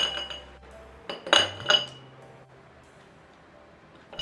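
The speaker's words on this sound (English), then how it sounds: "Add some ice cubes in a glass." A few bright clinks of ice cubes dropping into a glass for iced tea, two sharp knocks close together, then quiet with a faint hum.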